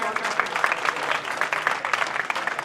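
Audience at a tehsil-level Prajapati community talent felicitation ceremony in Bidasar breaks into steady, dense clapping that fills the hall at moderate distance, with a faint murmur of voices beneath.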